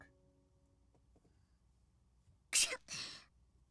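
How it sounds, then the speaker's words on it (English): A character's sneeze in the Flowers visual novel, a sharp burst followed closely by a second softer burst, standing out near the end of a quiet stretch with faint background music. "I hear a sneeze."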